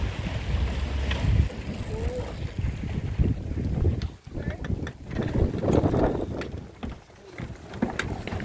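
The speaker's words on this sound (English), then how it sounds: "That's the power of the wind." Wind roars steadily across a racing sailboat, mixed with broadband buffeting on the microphone and rushing water along the hull, fairly loud and close, with brief lulls and a few bumps and knocks.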